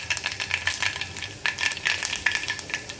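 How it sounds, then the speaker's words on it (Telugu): Mustard seeds, cumin and fenugreek crackle and sizzle in hot oil for a tempering, with a spoon scraping in an uneven rhythm and no voices. "దానికి తాలింపు పెడుతున్నాను. తాలింపు కోసం ఆవాలు, జీలకర్ర, మెంతులు"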